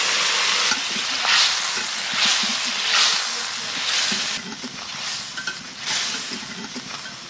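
Chopped onion, tomato and mustard paste fry in a pan, giving a steady close sizzle broken by rhythmic surges of stirring, several slow sweeping strokes that hiss louder, then a quieter crackling stretch, no voices.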